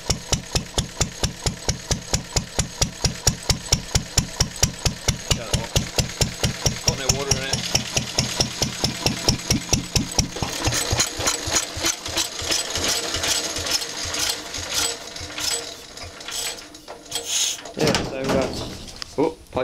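An old D engine runs at a steady, even idle, each firing stroke a sharp regular knock for about ten seconds before the beat blurs into rougher, busier clatter and a few loud bangs toward the end.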